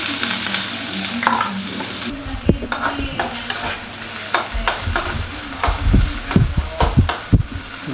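Chilli, garlic, onion and capsicum frying in a pan, a loud close sizzle with repeated spatula scrapes and knocks against the pan, busy and irregular, and no talking.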